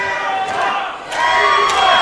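A wrestling crowd at a West Coast Pro show cheers and shouts loudly and steadily, swelling even louder halfway through with scattered yells rising above the roar.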